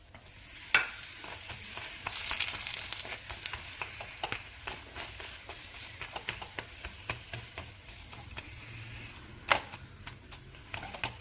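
Roti cooking on a hot griddle with ghee spread over it, giving a soft ongoing sizzle broken by scattered scraping and tapping clicks, with a few sharper knocks, close by and fairly quiet.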